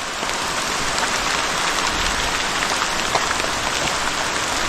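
A steady downpour of heavy rain falls onto surfaces as a loud, continuous hiss, with scattered louder drop impacts and no talking.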